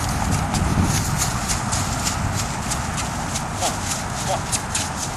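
A horse canters in a riding session, its hoofbeats a muffled rhythmic thudding beneath steady background noise, with a trainer's voice calling out instructions.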